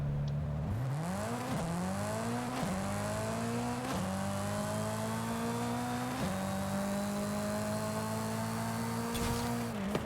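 A Mitsubishi Lancer Evo 6 with an 844 hp AWD drag build in Forza Horizon 5 launches from 2K rpm, its engine climbing steadily through several quick upshifts at steady volume, no talking.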